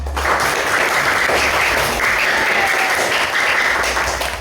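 A classroom full of children claps steadily together, a dense, lively burst of applause that holds at full strength throughout.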